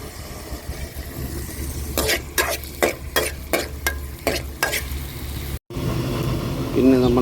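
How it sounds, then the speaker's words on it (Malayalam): Ginger and garlic fried in oil for a Kerala-style black pomfret curry, with a run of rhythmic spatula scrapes against the pan over a steady sizzle and low background hum, close and fairly loud. "ഇഞ്ചി വെളുത്തുള്ളി ഇട്ട് ആദ്യം എണ്ണ ഒഴിച്ച്"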